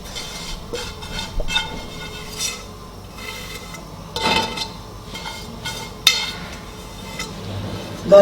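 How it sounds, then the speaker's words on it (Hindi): Crushed carrots tipped into a metal cooking pot on a stove, giving a series of scraping, rasping rubs and clattering metal knocks at close range, some louder thuds spaced irregularly. "बर्तन के अंदर गाजर को डाल देंगे।"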